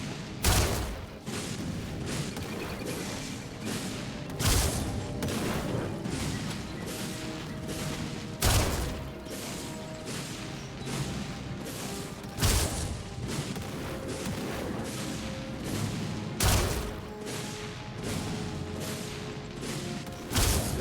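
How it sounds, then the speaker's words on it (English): Cannon fire in Skyrim Special Edition: sharp, booming blasts repeat about every four seconds over a steady, dense background roar, with no talking. "Yeah, you gotta be careful with this cannon."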